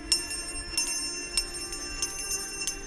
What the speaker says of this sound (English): it's a good idea to be carrying a bell with you.